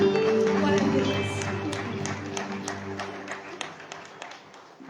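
A church congregation claps in scattered, uneven applause that fades over a few seconds, partly under sustained organ-like music and a voice.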